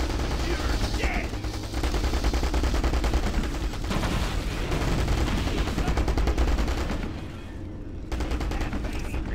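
Rapid continuous minigun fire from Halo CE, the demo version with the Digsite mod, roars loudly and steadily for most of the stretch, dipping briefly near the end before resuming.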